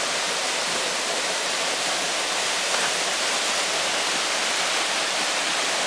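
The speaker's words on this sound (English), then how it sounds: "and here you can see the waterfall." A jungle waterfall in Meghalaya roars with a dense, constant rush of falling water, loud and unbroken from start to finish with no voices.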